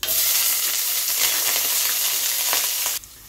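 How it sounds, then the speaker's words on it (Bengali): Potatoes fry in oil with tempered spices (bay leaf, dried chilli, cumin) in a kadai. A loud, dense sizzle runs for about three seconds with a few crackling bursts, then drops away abruptly to quiet. "ফোড়নটা ভাজা হয়ে গেলে এবার আমি আলুটা দিয়ে দিলাম।"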